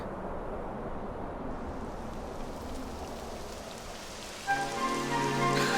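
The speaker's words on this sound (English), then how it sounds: "It would have to go and start raining, wouldn't it?" Rain falls in the video game Dragon Quest XI S, a steady even hiss of downpour, with tonal game music rising in near the end.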